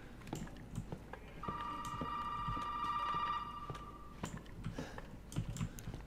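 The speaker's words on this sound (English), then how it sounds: "I know the phone's ringing" An in-game telephone in Resident Evil 7 rings with a steady electronic tone lasting a few seconds, surrounded by clicky keyboard and mouse noise and faint background sound, with no talking.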